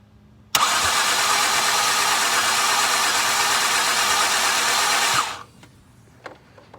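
Mariner outboard motor, being troubleshot and tested on its back cylinder, fires up abruptly and runs loud and steady for several seconds before cutting off, leaving faint ticks and knocks.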